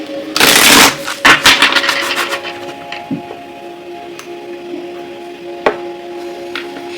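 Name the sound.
shuffling tarot cards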